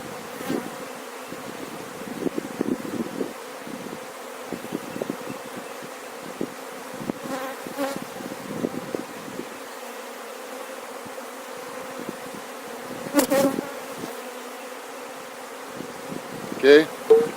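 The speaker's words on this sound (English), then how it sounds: "I'm just going to take and lightly rake these bees off of here." Honey bees buzz around an open beehive during a hive check, a steady close hum with swelling bursts as bees fly near, while a few faint handling knocks and rustles come and go.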